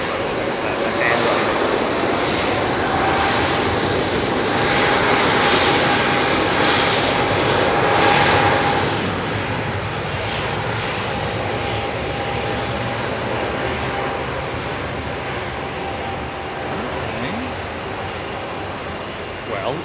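An airliner in Latvian independence livery roars at London Heathrow on a busy evening, a loud, sustained engine rumble that swells and then slowly eases, with faint voices beneath it.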